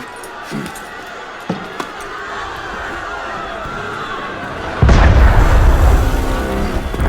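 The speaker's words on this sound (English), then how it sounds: "That was cannon fire." A sudden heavy boom of cannon fire in the game Assassin's Creed Unity hits midway, followed by sustained loud rumbling, after quieter scattered clanks and ambient battle noise.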